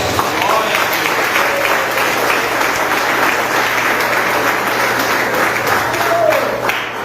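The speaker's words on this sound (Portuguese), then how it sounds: "Aplauda o nome do Senhor Jesus." Sustained applause from a congregation during a church service, steady and dense throughout, with some voices mixed in.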